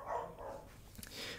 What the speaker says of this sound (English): Poor Charles, barking at the fireworks.